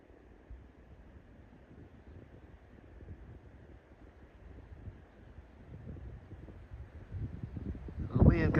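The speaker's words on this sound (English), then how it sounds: "Wind coming up." Low, gusty wind buffets the microphone on a mountain trail in the Walker Mountains near Mt Rogers, Virginia, building gradually from faint to stronger gusts toward the end, with a voice speaking briefly over it.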